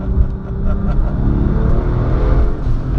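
A 760 WHP Porsche 997 Turbo with a Tiptronic gearbox accelerates hard, heard from inside as a loud, steady, deep engine roar that fills the whole short stretch without a break.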